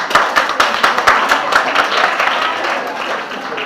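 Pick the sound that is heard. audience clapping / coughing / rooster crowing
audience clapping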